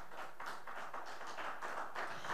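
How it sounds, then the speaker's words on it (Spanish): A church congregation applauds in steady rhythmic clapping, faint and somewhat distant, with evenly spaced bursts and no voices. "Dale un aplauso al Señor."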